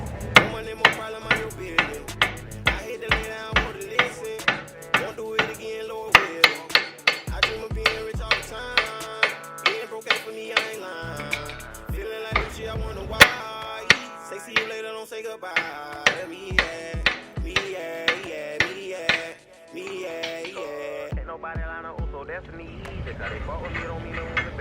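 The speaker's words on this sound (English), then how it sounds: "I do need to grab a hammer right quick so I can beat it out of there." A hammer strikes a broken axle bolt on a Mk4 Jetta during a control arm replacement. Dozens of sharp metallic blows ring out in irregular bursts and pauses, close and loud, with occasional brief talk between them.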